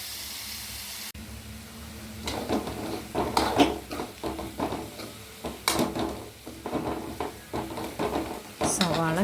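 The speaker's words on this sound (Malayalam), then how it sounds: "നമുക്ക് നന്നായിട്ട് മൊരിയിക്കാം" Onion, ginger, curry leaves, green chilli and tamarind frying in a pan for a fish curry, a steady sizzle broken by repeated stirring scrapes and clatters, with a final sharp metallic clink at the end.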